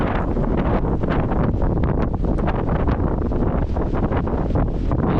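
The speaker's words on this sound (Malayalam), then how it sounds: "കാറ്റാണ് കേട്ടോ കേൾക്കാൻ പറ്റുന്നുണ്ടെന്ന് എനിക്കറിയില്ലേ ഭയങ്കര കാറ്റാ" Strong, steady wind roars and buffets the microphone without a break, a dense rushing noise that fills the whole stretch with no voices.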